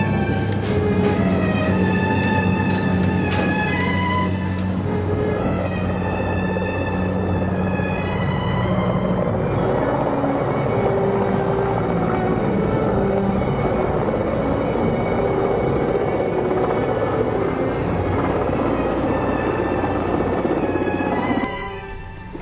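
A helicopter drones steadily and loudly throughout, its engine and rotor forming a continuous rumble with no talk.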